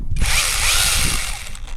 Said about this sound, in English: the new hand chainsaw and the pruners